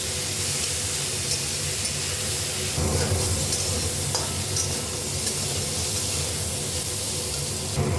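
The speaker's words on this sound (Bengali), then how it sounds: "নুন দিয়ে দিলাম, হলুদ দিলাম, দিয়ে উচ্ছেটা একটু ভেজে নেব" Bitter gourd frying in hot oil with salt and turmeric in a home kitchen, giving a steady, close sizzle with stirring scrapes throughout.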